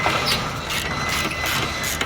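A wrench loosening a 17mm caliper bracket bolt on a Hyundai Elantra during a front brake job, giving a dense metallic ratcheting rattle that runs close and loud through the whole stretch.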